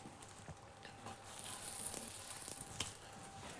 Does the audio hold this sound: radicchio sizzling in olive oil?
yes